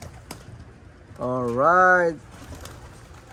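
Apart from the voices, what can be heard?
racing pigeons in loft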